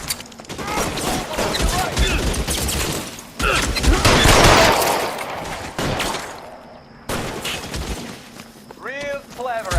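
Gunfire in the LA Noire video game crackles in repeated loud bursts and volleys, mixed with the game's dialogue and other effects, with voices heard between the shots.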